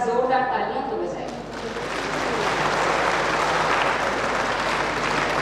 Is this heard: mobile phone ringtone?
no